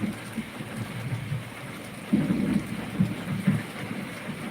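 Rain with thunder over a village, a steady patter of rain under low rumbling thunder that swells in several heavy rolls during the second half.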